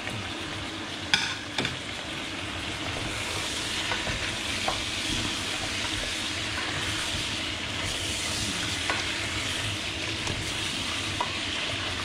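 Half wood pigeons fry in a pan for a civet and are stirred, giving a steady, close broadband sizzle with a few sharp scraping clicks from the stirring.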